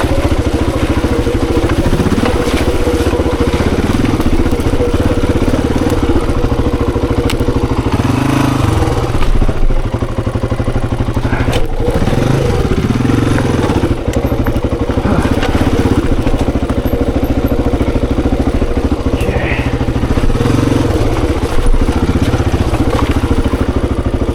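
A 26-year-old Honda XR400 dirt bike engine putters at low revs on an enduro singletrack, a loud, close, steady idle with occasional clatter and small throttle blips.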